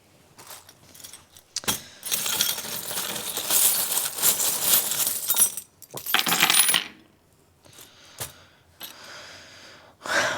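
Small metal charms used in a tarot reading are dropped and jingle, producing bursts of bright clinking and rattling separated by short pauses.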